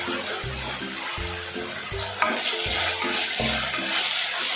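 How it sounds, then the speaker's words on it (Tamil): Two green chillies sauté in hot oil for a chicken kola urundai kuzhambu, giving a loud, steady sizzle with repeated stirring scrapes and a low rhythmic hum underneath. "2 பச்சை மிளகாய் போட்டாச்சு, நல்லா வதக்குவோம்"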